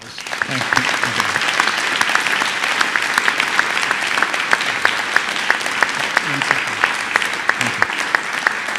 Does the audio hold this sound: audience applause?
yes